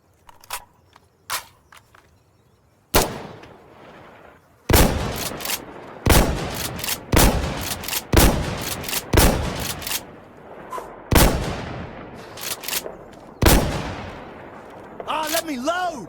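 Weapons firing in Insurgency: Sandstorm ring out as single loud shots and short bursts, with quieter reload clicks and handling noises between them and a voice speaking near the end.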